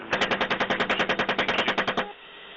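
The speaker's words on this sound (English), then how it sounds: "Keep shooting." Automatic weapon firing a rapid burst of roughly twenty evenly spaced shots over two seconds, loud and close, cutting off sharply into a short ringing tail.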